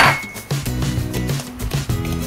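Utensil stirring brown sugar and other ingredients in a bowl for a no-bake mango cheesecake, with repeated light clinks and scraping at a steady rhythm, close and fairly loud.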